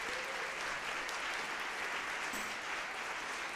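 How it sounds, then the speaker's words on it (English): An audience at a school district band concert gives a warm round of applause for two middle school band teachers, a steady, fairly distant wash of clapping that continues throughout. "Nice round of applause."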